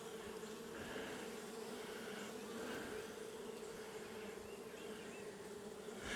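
A honey bee swarm buzzes inside a swarm trap, a steady, dense droning hum that stays constant and fairly faint throughout with no talk.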